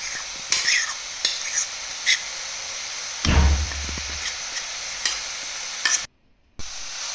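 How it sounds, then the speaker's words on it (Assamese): Vegetables and grated carrot are stirred in a hot pan for a veg momo filling, with repeated scraping stirs over a steady sizzle and one louder clatter midway, close and clear with no talking. "মই এইখিনি এতিয়া ভালকৈ লৰাই দিম"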